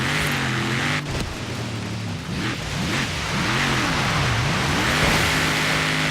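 In Forza Horizon 3, a turbo Ford Raptor truck off-roads through water, its engine revving loudly with pitch swinging up and down as it accelerates and eases off, alongside splashing.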